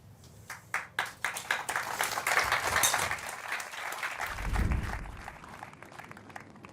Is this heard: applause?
yes